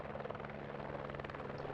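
A helicopter in a military video game over a desert, its rotor giving a steady, close, dense chop under a low engine hum, with no voices.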